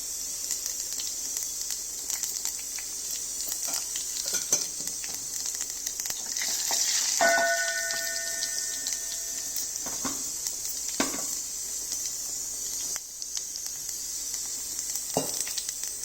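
Tempering spices sizzle in hot oil for a cucumber and tomato dal. A steady, close crackle carries occasional sharper pops and a few utensil clinks, with no talking.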